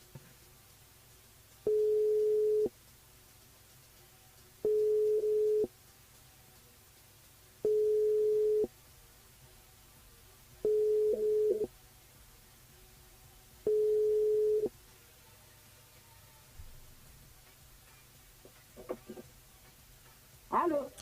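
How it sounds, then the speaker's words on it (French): Five evenly spaced telephone ringback tones sound while a call is being placed during a live radio broadcast, each about a second long with quiet gaps between them, followed by faint handling noises. "Après, on va appeler Michael Pouvin."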